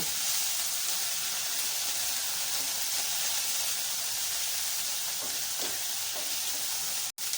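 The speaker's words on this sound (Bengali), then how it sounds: "বাঁধাকপিটাকে 3-4 মিনিট ভেজে নেব" Shredded cabbage frying in a pan for cabbage kofta curry, a steady, even sizzle and hiss that runs unbroken at close range, with a brief clatter near the end.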